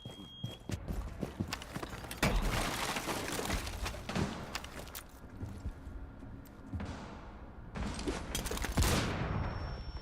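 Shotgun blasts in Rainbow Six Siege come in bursts of sharp, loud reports over a busy game mix, with clattering movement and impacts between shots.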